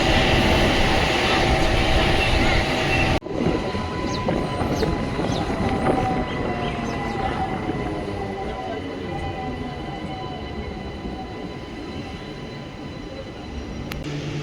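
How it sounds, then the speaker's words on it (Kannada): A MEMU express train runs between Tumkur and Shivamogga, nearing Birur junction, heard from on board. Its rumble and rattle are loud and continuous, change abruptly early on, then settle into a steady, slightly softer roll with faint squeals. "ನಮ್ಮ ಟ್ರೈನ್ ಬಂದೈತ್ರಿ ಈಗ ಬೀರೂರು ಜಂಕ್ಷನ್ಗೆ"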